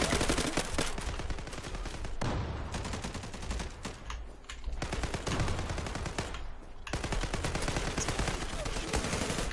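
Dense, continuous gunfire in the online shooter Zula on the Çanakkale map, rapid overlapping shots and bursts rattling almost nonstop for the whole stretch, loud and close with only brief dips.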